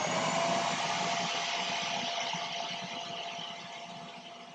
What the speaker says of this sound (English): Let me turn on the shop vac.